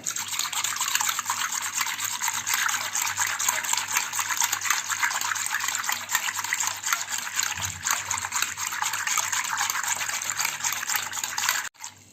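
Curd, water and salt are vigorously stirred together in a vessel to make buttermilk, giving a steady, continuous sloshing, swishing hiss for about twelve seconds before stopping abruptly, close and with no talking.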